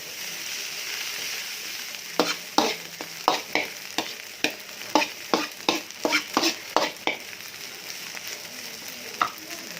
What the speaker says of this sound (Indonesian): Oke, diaduk-aduk.